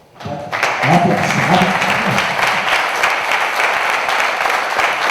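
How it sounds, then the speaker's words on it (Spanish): An audience at a mystery-themed conference in Zamora breaks into steady applause after a brief opening, the clapping dense and sustained, with a voice briefly heard near the start. "Primero un aplauso, ¿no?"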